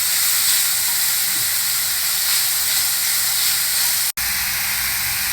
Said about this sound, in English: add in this onions and green chillies. Saute them for a few minutes.